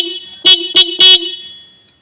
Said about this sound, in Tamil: ஸோ ஒரு ஹார்னை மட்டும் நம்ம வந்து அடித்து பார்க்கலாம் எப்படி இருக்குன்னு சொல்லிட்டு.